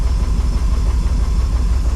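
Car engine idling at about 700 RPM, a low steady throbbing hum close by, even and unbroken for two seconds with no voices.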